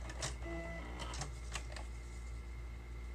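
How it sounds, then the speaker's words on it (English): A sewing machine stitches through a roll of paper, giving quiet, rapid mechanical chattering in short bursts over a steady low hum, with a faint high whine in between. "So like along here, let's make sure that we sew that."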